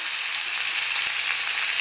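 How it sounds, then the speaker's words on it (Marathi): Onion frying in hot oil in a kadhai, a steady, close, bright sizzle that holds evenly throughout with no talking. "आता ह्याच्यामध्ये ही कांदा टाकून फ्राय करून घ्यायचं"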